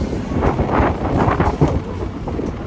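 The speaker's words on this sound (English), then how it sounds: "But it's quite windy today too." Steady wind buffeting the microphone outdoors in London, a continuous low rumble with gusty swells and no voices.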